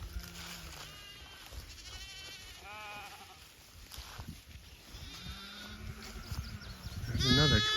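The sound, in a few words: baby lambs bleating on pasture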